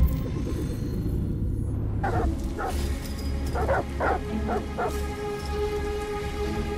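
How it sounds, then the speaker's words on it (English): Dogs in Detroit: Become Human bark in a stormy scene, with about six sharp barks in an uneven sequence at moderate distance over a steady rumble of rain and wind. "Goddamn dogs."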